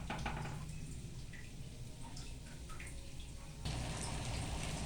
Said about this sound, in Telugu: నేనైతే ఒక చెంబు వాటర్ పోసుకుంటున్నా